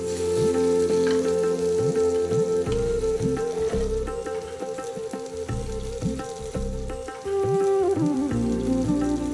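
Amla pickle frying in a pan with red chilli powder, cumin and coriander powder, stirred continuously: loud, close sizzling with scraping and clinking of the spoon throughout, with no voices.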